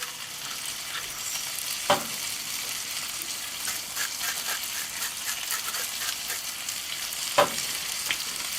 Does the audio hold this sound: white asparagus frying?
yes